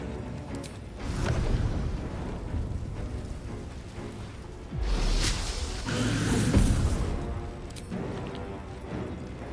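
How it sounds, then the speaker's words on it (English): A wall of fire spell from Baldur's Gate 3 burns with a rushing, crackling roar that swells in two broad surges, mixed with game effects and faint thuds. "the wall of fire will take care of them"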